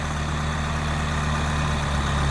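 A heavy diesel Kubota tractor engine idles steadily close by, a constant low rumbling drone with no pauses and no voices.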